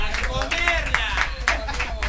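Crowd clapping for a performer at a Colombian cumbia band show, a steady patter of hands with short cheers and whistles over background hubbub.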